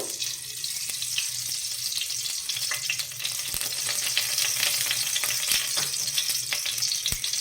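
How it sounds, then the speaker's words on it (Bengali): Ghee sizzles steadily in a hot kadai as ash gourd payesh is started, a continuous bright frying hiss with a few faint clinks, close and fairly loud throughout with no voices. "কড়াই আমার গরম হয়ে গেছে, এবার আমি ঘিটা দিয়ে দেব।"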